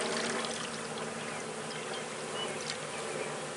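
Honey bees swarm and buzz steadily around a newly installed hive, a dense, continuous drone close by with a faint trickle of water beneath and no talking.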